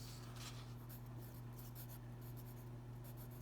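Marker or pen strokes as logarithm laws are written out during an algebra lesson, giving faint scratchy bursts over a steady electrical hum, with no talking.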